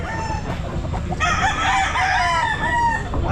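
A young stag gamecock crows at a busy pet market, one long drawn-out crow rising over steady crowd murmur and other fowl clucking nearby.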